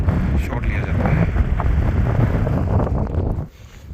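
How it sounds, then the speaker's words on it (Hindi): Strong wind at Hanle Observatory in Ladakh buffets the microphone with loud, close, gusty roaring that fades near the end. "बहुत तेज़ हवा चल रही है।"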